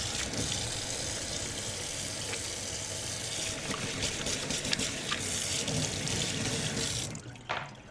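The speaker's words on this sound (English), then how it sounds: "washing hands" Kitchen tap running steadily into a sink during handwashing, a close continuous splashing rush that stops near the end, leaving a few drips and small handling sounds.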